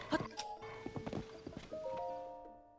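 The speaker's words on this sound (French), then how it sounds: "Je t'ai ramené un cheval." A horse in Zelda: Tears of the Kingdom clip-clops with quick, close hoofbeats, then gives a short whinny that trails off over a faint ambient background.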